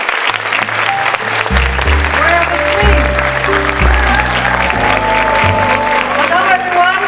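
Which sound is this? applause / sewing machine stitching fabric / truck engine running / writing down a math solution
applause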